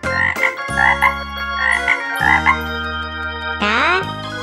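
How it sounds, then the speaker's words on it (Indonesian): A frog croaks in a rapid series of loud, close, resonant calls that repeat rhythmically with no other sounds, ending in a rising drawn-out call. "Hewan ini namanya katak."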